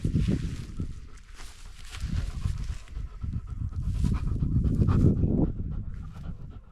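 A dog pants heavily and steadily up close on a mountain valley trek, with some shuffling movement around it.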